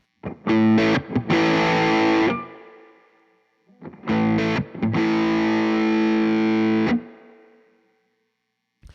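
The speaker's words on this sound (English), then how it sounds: "a clean boost like the Coco after a distortion pedal really just gives you a nice clean volume boost" Two loud phrases of heavily distorted electric guitar through a distortion pedal followed by a clean boost, each chord ringing for a couple of seconds before cutting off into silence.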